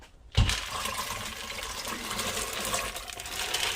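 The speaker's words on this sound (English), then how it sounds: "Now I'll be pouring them in the pot." Soaked beans poured into a cooking pot at home, starting with a sharp thump as they hit, then a continuous rattling, watery pour that stays fairly loud and even for several seconds.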